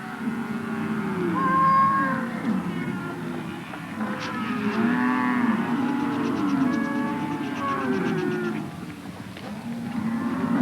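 Cattle on a ranch moo repeatedly in a herd, with several overlapping low, drawn-out calls, loud and close, and no talking over them.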